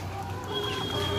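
Native hens feeding on vine leaves cluck softly at close range over a steady background hum, with a faint rooster tone in a short, continuous stretch and no talking.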